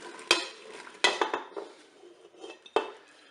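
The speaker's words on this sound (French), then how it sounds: "Je vais commencer par mettre les pommes coupées dans la cuve." Chopped apples tipped into the bowl of a Cookeo multicooker, a few close metallic clanks and clinks of utensil against pot with softer rustling between, no voices.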